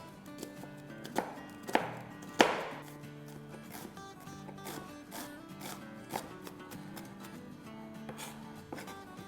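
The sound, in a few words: chopping a small onion with a knife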